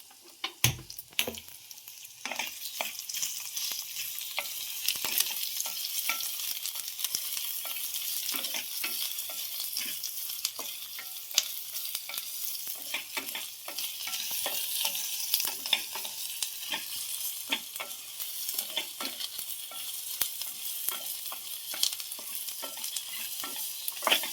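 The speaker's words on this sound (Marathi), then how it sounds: "आता इकडे कढाई ठेवली आहे कढाईमध्ये दोन चम्मच मम्मीने तेल टाकलं आणि आता हे आपल्याला भाजून घ्यायचं" Onion and whole spices roast in oil in a kadhai, a steady hiss of frying with frequent scraping stir strokes throughout, moderately quiet and close, with no voices.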